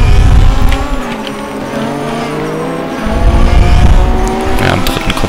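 Race car on a French circuit at full throttle, its engine note climbing loud and close as it powers out of a corner, with a brief tire squeal under the sustained roar.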